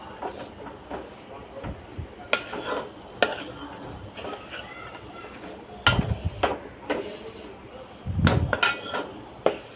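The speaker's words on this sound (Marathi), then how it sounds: "आता मी ह्यामध्ये गूळ मिक्स करते." Scattered clinks and scrapes of a utensil against a bowl as jaggery is stirred into ragi flour, with irregular louder knocks and quiet gaps between.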